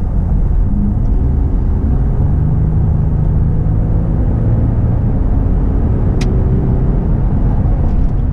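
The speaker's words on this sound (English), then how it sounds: "testing out the intake, see if we can't hear any more intake or turbo sounds" A 2018 Ford F-150 pickup fitted with an aFe Magnum Force intake drives on the road, giving a steady, loud low engine and road rumble that holds through the whole stretch with no talk.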